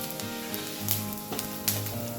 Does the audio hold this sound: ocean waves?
no